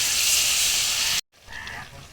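Water poured into a hot pan of soya chunk curry with salt, chili and turmeric, producing a loud, steady, close hiss of sizzling that cuts off sharply, followed by quieter bubbling.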